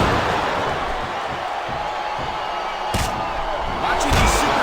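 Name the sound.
wrestling arena crowd noise from a video game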